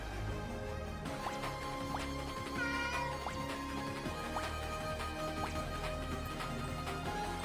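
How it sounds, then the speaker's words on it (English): Cat meows ring out repeatedly over a dense, steady electronic game soundtrack with chiming melodic notes, loud and continuous throughout. "Yeah, it's a cat."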